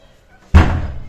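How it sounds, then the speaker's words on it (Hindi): A house door near the kitchen slams shut once, a sharp, loud, close thud with a short boomy decay after a quiet moment. "दरवाजा मैंने बंद कर दिया है"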